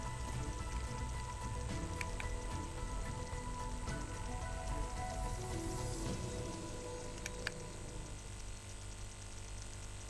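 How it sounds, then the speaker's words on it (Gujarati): Heavy monsoon-season rain falling steadily across the whole stretch, a dense continuous hiss of drops on surfaces with a low rumbling undertone and no voices. "દેશના અનેક રાજ્યોમાં ભારે વરસાદ થઈ રહ્યો છે"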